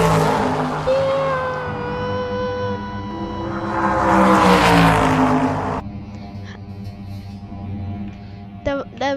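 A lorry engine roars loudly as it drives along a road, with tonal whine rising in pitch, swelling to a peak and then dropping away into quieter running with some clicks at the end.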